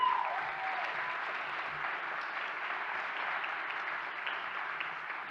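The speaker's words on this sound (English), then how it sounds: "please welcome Charlotte Egan from Mary Mother of God School" Steady applause from an audience at an English-language competition finals and showcase as a finalist from a school in Toronto, Ontario is welcomed onstage, broad and sustained clapping throughout with no talk over it.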